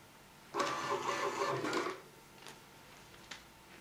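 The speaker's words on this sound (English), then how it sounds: "our printer's just restarted, printed me a new receipt out with all these saved configuration settings in there" A receipt printer prints its saved configuration settings, a quiet mechanical buzzing chatter lasting over a second, followed by a few faint clicks and ticks in a quiet room.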